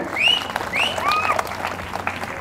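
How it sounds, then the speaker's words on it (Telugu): An audience at a public speech in Pedha Goalanka claps, a dense burst of applause that swells then tapers, with a few whistles and crowd noise mixed in. "నేను ఒక మాట అనగానే ఇప్పుడు మీరు అందరూ చప్పట్లు కొడతారు"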